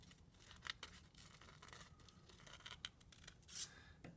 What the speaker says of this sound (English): I'm cutting just like this with my scissors